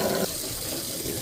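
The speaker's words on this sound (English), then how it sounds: "Get that water nice and hot." Hot water runs from a tap into a sink in a steady, close splashing stream, alone and moderately quiet.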